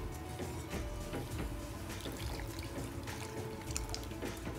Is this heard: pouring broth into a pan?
yes